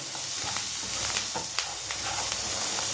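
Mustard seeds, onion and crushed garlic sizzle in hot tempering oil, a steady close hiss with scattered small pops and crackles of seeds bursting throughout, no voices.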